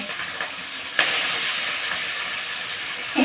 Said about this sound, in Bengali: কড়াই এত গরম হয়েছে, দেখো আমি কোথায় আছি, তেল ছিটে পড়ছে।